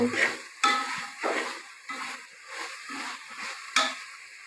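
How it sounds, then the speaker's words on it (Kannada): Food frying in oil is stirred in a pan, with a soft sizzle broken by rhythmic scraping pushes about every half second, close and moderately quiet, with no talk. "ಎಣ್ಣೆಲಿ ಚೆನ್ನಾಗಿ ಫ್ರೈ ಆಗುತ್ತಿದೆ."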